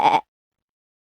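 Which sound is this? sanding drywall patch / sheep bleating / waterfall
sheep bleating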